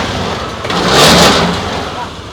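Motorcycle in a repair shop revving once, a loud rising and falling burst of engine roar with broadband noise that swells mid-clip and eases off, people talking nearby.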